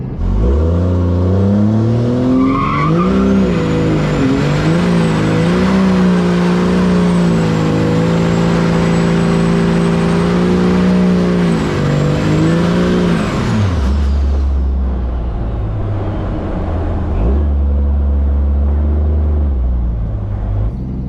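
A Ram pickup truck revs loudly for about thirteen seconds, its engine roar climbing and holding steady, then drops to a lower rumbling idle with no talking.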